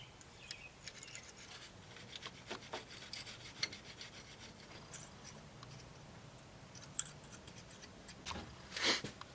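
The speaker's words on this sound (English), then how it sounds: "we're just going to gently scrape that away with this razor blade" A razor blade on a stick scrapes old RTV sealant off the valve cover side housings of a 2002 Mercury Sable, producing faint, close, intermittent rasping strokes with small ticks.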